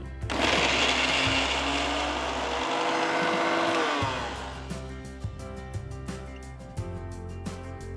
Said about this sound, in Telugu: ఇప్పుడు ఒక మిక్సర్ జార్లో నేను రఫ్గా కట్ చేసిన ఐదు పచ్చిమిరపకాయలని వేస్తున్నాను అలాగే ఐదారు వెల్లుల్లి రబ్బలు తరిగిన ఒక అల్లం మొక్క వేసి ఒక్కసారి రుబ్బాలి